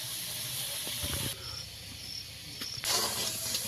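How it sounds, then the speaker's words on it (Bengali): Potato pieces frying in oil in a home kitchen give off a steady, moderately loud hiss and sizzle, with a few small clinks and a louder burst near the end. "আলুটাকে একদম লাল লাল করে ভেজে নেব।"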